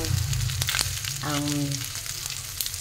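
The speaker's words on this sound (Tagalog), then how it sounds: "magisa ako ng bawang" Garlic sautéing in a pan for adobo, a steady close sizzle and crackle with a few brief stirring clinks, no talk over it.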